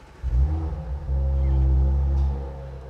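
A 2021 Audi RS 4 Avant engine cold-starts with a quick crank that catches into a short rev, then settles into a deep, steady bassy drone that fades slightly at the end.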